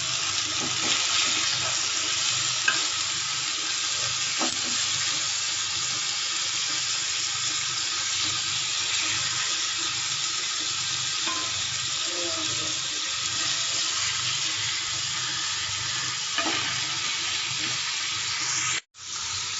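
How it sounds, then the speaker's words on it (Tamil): Fish frying in oil for a fried fish curry gives a dense, unbroken hiss and crackle that carries on evenly for a long stretch, close and loud, with a brief dropout near the end. "மீன் நல்லா பொரிஞ்சு வந்துருச்சு இப்போ இதை திருப்பி போட்டுக்கலாம்"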